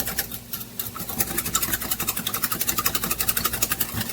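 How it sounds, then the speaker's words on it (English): A whisk beats sweet and sour sauce thickened with cornstarch and ketchup in a bowl, making quick, regular rhythmic clinks and swishes that grow steadier and louder as it goes. "And just whisk it all together."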